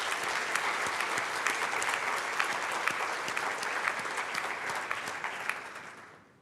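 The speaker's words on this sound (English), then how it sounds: "just give those guys a quick round of applause" A quick round of applause from the audience at an international high-level forum on a launch programme, dense steady clapping that holds evenly and then cuts off at the end.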